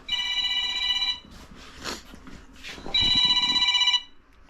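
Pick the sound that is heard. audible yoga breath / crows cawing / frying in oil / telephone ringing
telephone ringing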